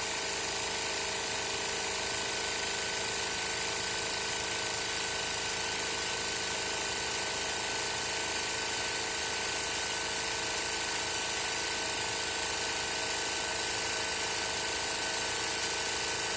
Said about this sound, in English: push the left pedal, which actuates the sewing or the bobbin winding